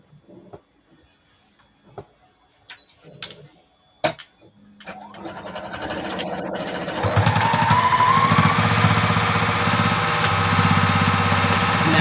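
A sewing machine stitching fabric starts up after a few scattered clicks and handling knocks. It then settles into a close, continuous whirring hum that grows louder and stays steady to the end.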